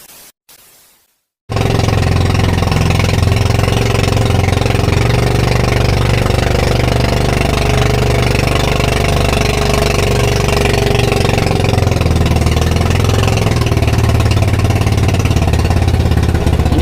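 A boat engine on a Pacific tuna fishing trip starts after a brief stop and then runs loud and steady for the rest, a continuous rough rumble with an uneven, misfiring throb and no voices.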